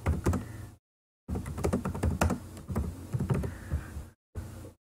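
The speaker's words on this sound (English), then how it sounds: "but you can read what I'm typing in." Typing on a computer keyboard during a Harry Potter quiz, heard as a close, busy run of clicking keystrokes broken by two short silent gaps.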